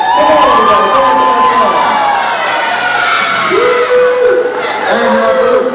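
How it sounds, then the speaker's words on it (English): A large crowd of students at a school Bible-quiz event cheers and shouts loudly for the sixth graders, a dense, sustained roar of young voices with rising whoops and yells throughout. "You got the cheers for the 6th graders."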